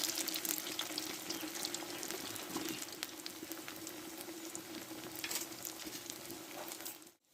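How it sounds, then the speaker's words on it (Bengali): Semolina pitha frying in oil in a pan, a faint steady crackling sizzle with soft bubbling pops throughout, no talk, ending abruptly. "বাকিগুলো একই পোষে আমি ভেজে নিব"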